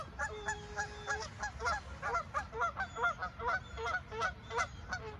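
Ducks squabble, trading a rapid run of loud, nasal honks back and forth close by, the calls coming in quick irregular bursts.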